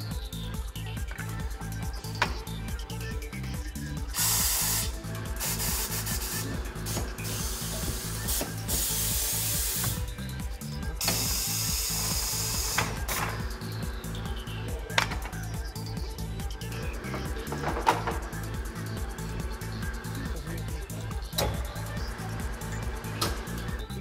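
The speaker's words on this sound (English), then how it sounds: "Now the rim will be held on the turntable by the clamping jaws." A TWIN BUSCH TW X-36 tyre changer grips a wheel rim on its turntable with the clamping jaws. Steady mechanical whirring sounds with a fast regular ratcheting rhythm and sharp clicks, plus bursts of pneumatic hissing, close and continuous.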